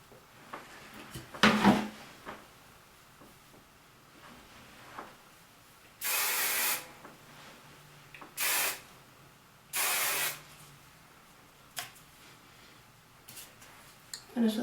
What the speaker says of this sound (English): Finish with a little bit more hairspray back here.